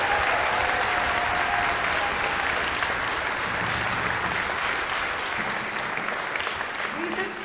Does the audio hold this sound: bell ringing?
no